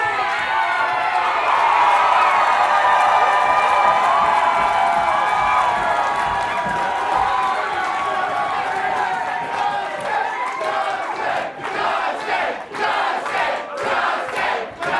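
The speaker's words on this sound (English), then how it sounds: "Listen to this crowd here, Kevin." A wrestling crowd at an ICW heavyweight championship match roars with loud, sustained cheering and shouting, then breaks into rhythmic chanting and clapping toward the end.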